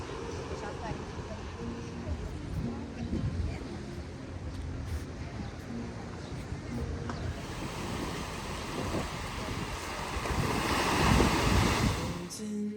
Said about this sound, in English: I was just totally relaxed with the sound of waves and that breeze